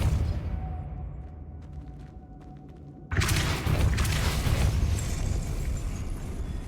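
A spell cast in Hogwarts Legacy lands as a sudden loud burst partway through, after a quieter stretch of game ambience, followed by a sustained roaring blast that fades slightly.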